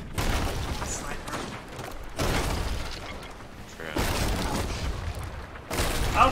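Rapid booming gunfire from a sniper rifle in the pirate game Sea of Thieves, several loud cracks and blasts across a few seconds amid battle noise.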